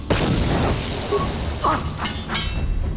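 A frag grenade goes off in Star Wars: Knights of the Old Republic on Taris, a rumbling boom that swells loud and close, followed by scattered mechanical clatter and brief game sound effects.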